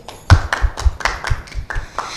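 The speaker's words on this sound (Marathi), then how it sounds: "तनिष्कासाठी जोरदार टाळ्या होऊ दे" Clapping for a child at a Children's Day event, a small burst of close hand claps in an uneven quick rhythm lasting about two seconds.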